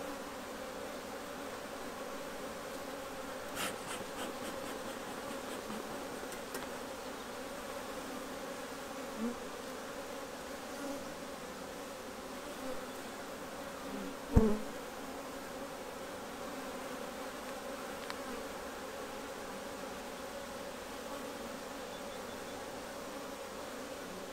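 Steady, continuous buzzing of many honeybees around a hive, close and even throughout, with a few brief clicks and knocks.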